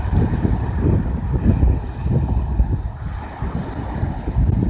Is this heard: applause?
no